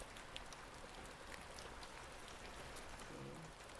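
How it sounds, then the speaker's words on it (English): Soft, steady rainfall pattering on a surface, a faint continuous hiss with scattered light drop taps and a brief low murmur near the end. "I guess you have to make do with the rain"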